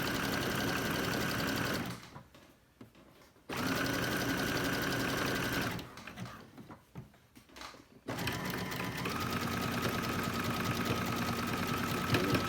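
Sewing machine stitching a 3.0-length zigzag over elastic to gather fabric, running in steady sustained stretches broken by two short pauses, close and even.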